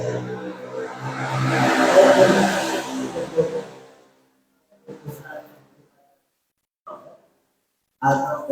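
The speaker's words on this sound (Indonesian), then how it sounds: "tadi ada motor lewat" A passing motorcycle's engine rumbles and swells, then fades away over about four seconds, followed by near silence and brief bits of voice.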